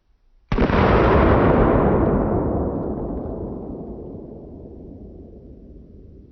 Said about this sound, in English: Not a bad shot for a black powder revolver